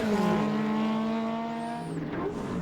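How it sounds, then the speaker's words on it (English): An ex-Schnitzer BMW M3 Group A touring race car on track at Winton, with a loud, sustained engine drone that shifts pitch as it holds speed. "Bill Cutler holding down a solid 3rd place in the ex-Schnitzer M3."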